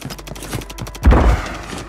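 Gunfire in the Call of Duty: Warzone 3 video game, a quick rattling burst of shots followed by a heavier thudding impact, close and punchy over a short span.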